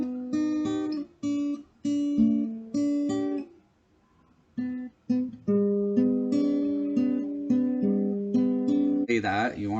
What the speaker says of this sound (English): that fingerstyle intro sounds like this